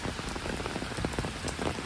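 Heavy rain pours down steadily in London, a dense, continuous hiss of drops striking surfaces close by, loud and unbroken with no voices.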